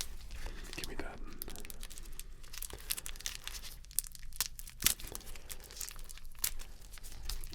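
Tape is torn and peeled off the packaging of a Jack Sparrow figure during an unboxing, giving close crinkling and ripping with soft rustles, interspersed with quiet whispered talk.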